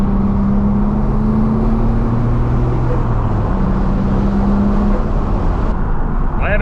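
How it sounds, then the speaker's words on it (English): A Nissan car engine idles loudly and steadily up close, a low rumble with a constant hum throughout. "Car's running good."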